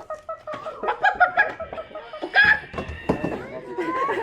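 Audience members at a children's backyard farm-themed music show imitate chickens with voices, giving a ragged chorus of clucks and crowing cries that overlap and rise and fall, fairly close.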